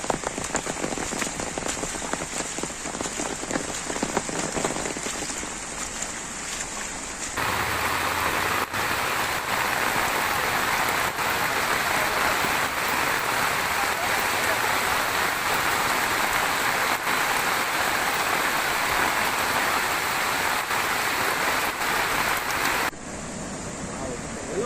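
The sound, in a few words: rain falling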